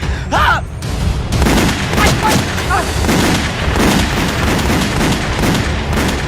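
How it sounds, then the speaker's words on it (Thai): Rapid gunshots crack repeatedly, loud and close, in irregular bursts inside a house, with a brief voice-like cry near the start. "เสียงปืนแน่ๆเลยอะ"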